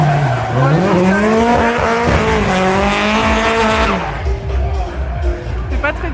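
Drift cars at a French drifting festival rev loudly with high, wavering tire squeals and shifting engine pitch for several seconds before the noise fades, as crowd chatter and a voice carry on beneath it.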